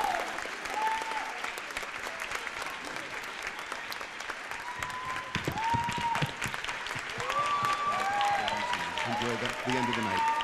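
Concert hall audience applauding at an all-district chorus concert, sustained steady clapping throughout, with a few scattered cheers and voices rising over it toward the end.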